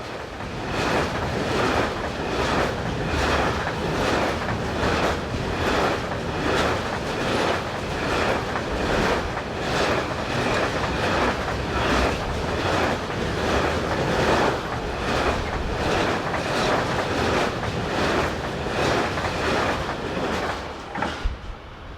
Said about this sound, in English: Heading towards the camera is 186426, a locomotive new to service during 2015.